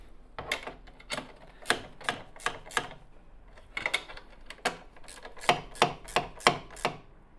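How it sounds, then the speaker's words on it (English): A 13mm spanner tightens bolts on a Royal Alloy GP350 scooter, making quiet, close, rapid clicks in uneven bursts with short pauses between them. "secure the bolts."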